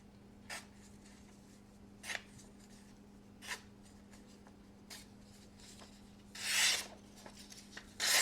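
A small EDC fixed blade knife slices through paper in short rasping strokes spaced a second or so apart, ending with a longer scraping cut, all fairly close against a steady low hum.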